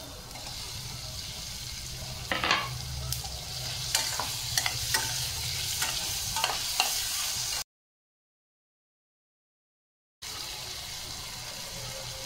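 Chopped onion and tomato sizzle in a pan for kurdai bhaji while a spoon scrapes and stirs now and then, steady frying with a sudden gap of silence partway through.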